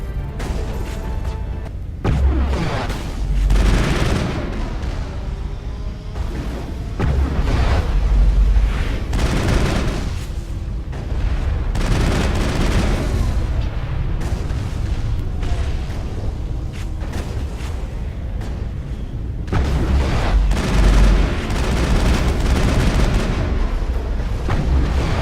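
Defense turrets fire in the Mass Effect video game, with repeated heavy booms and explosions over a loud continuous rumbling battle backdrop, no talking.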